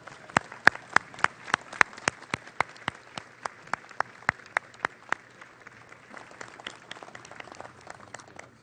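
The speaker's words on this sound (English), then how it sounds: "I'd ask all of us to give them a warm round of applause." A small audience at the Saratoga Red Jacket ceremony gives a warm round of applause, sharp distinct claps at first that thin into a softer, scattered patter as it winds down.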